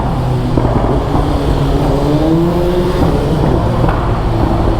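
A 2025 BMW S1000RR sport motorcycle with a full Akrapovic exhaust rumbles loudly inside a crowded tunnel, a steady, close, booming engine drone with slight pitch rises as it rolls through traffic.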